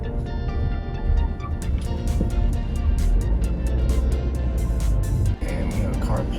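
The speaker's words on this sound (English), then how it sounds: "And we have a car pulling out just now." A car pulls out of a parking spot at a waterfall hiking area in the Finger Lakes, New York, a low steady engine rumble close by with faint ticking and rustling over it.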